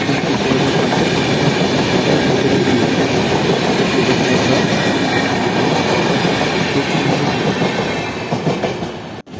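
A Barddhaman–Asansol MEMU train runs over the many crossing points beside a goods yard, producing a loud, continuous rumble with rapid clickety-clack of wheels on rail joints that eases slightly near the end.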